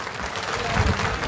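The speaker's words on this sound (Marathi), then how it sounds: "आपण जोरदार टाळ्या वाजवून हात उंचावून टाळ्या वाजवून दादांचं आणि बाबांचं स्वागत करायचं आहे" A crowd at a public event for Manoj Jarange Patil claps to welcome him. The applause is a brief, dense patter with voices mixed in.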